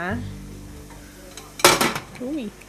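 A metal steaming pot clanks down onto a stovetop with a short rattle, after a quiet kitchen hum and a brief voice.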